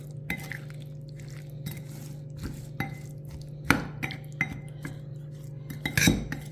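Spoon scraping and clinking against a bowl while garlic pickle is stirred together. The clinks come in sparse, irregular taps over a steady low hum, with two louder knocks near the end.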